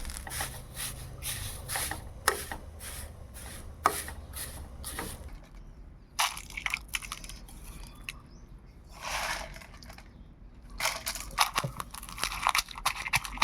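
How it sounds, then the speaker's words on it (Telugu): Dried drumstick leaves pounded in a stone mortar, producing irregular bursts of crunchy thuds and crushing scrapes, close up, with quieter pauses between the bursts and no talking. "ఇది కొంచెం రోట్లో వేసుకుని దంపుకుంటా"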